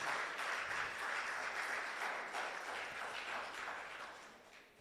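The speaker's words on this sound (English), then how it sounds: "Can we have a round of applause for our panel?" An audience at a regional labour roadshow panel applauds, a steady, fairly faint crowd of clapping hands heard from a distance that gradually tapers off.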